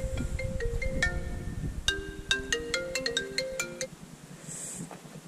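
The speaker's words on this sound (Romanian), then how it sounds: "Și mai sună și telefonul." A mobile phone plays its melodic ringtone, a bright series of electronic notes close by, cutting through background noise from an ATV service session with no talking over it.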